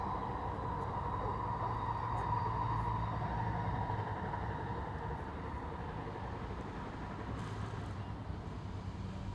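A train passing nearby produces a steady, loud rumble with a continuous low drone that holds across the whole stretch, with no pause or fade.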